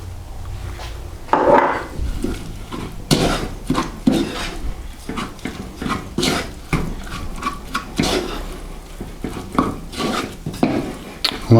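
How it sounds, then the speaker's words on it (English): Breadcrumbs are mixed into an apple and sage stuffing, with a utensil scraping and knocking against the bowl in irregular strokes, close and clear, with no one speaking. "mix in the breadcrumbs"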